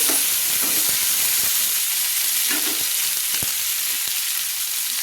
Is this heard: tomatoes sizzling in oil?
yes